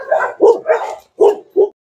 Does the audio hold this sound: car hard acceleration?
no